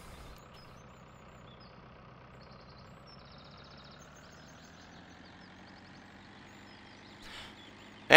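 A tractor engine idles in the Farming Simulator 2013 video game, a steady low rumble with a slowly shifting pitch, continuous and moderately loud, with faint clicks and a brief thump near the end.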